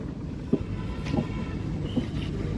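Dadar Express sleeper coach S4 rolling past on a station platform, a steady low rumble with a few soft knocks from the wheels, moderately near and with no talk.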